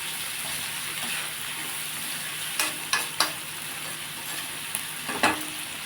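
Egg capsicum curry frying in a pan gives a steady soft sizzle, broken by a few sharp stirring clinks and scrapes near the end.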